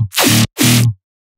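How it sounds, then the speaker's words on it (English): A dubstep FM bass from a Serum preset with a custom wavetable gives two short, loud, gritty buzzing bursts in quick succession, then cuts to silence, with no voices. "It's a simple FM from A Serum preset with custom wavetable we've made"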